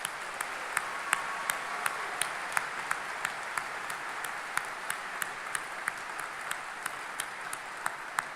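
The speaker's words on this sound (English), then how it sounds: "Please join me in giving these folks a round of applause" Steady audience applause fills a 2025 law school graduation ceremony at the University of Kentucky Rosenberg College of Law, sustained and even throughout, with regular sharp clicks ticking over the clapping.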